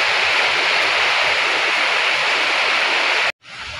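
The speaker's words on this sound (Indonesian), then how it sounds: "Dah lebat pula teman-teman hujannya ini." Heavy tropical downpour beside a simple house next to a plantation in Malaysia, a loud, dense, steady hiss of rain that cuts off abruptly near the end and then resumes slightly quieter.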